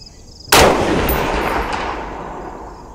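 A single loud, close gunshot from a .308 sniper rifle cracks sharply, then rolls off into a long fading echo, with no talking.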